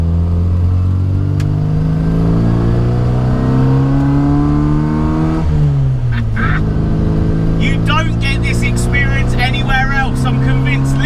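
A Classic Mini revs hard along a road, its engine note climbing under acceleration. It shifts into second gear, the pitch drops, then it rises again, loud and close throughout.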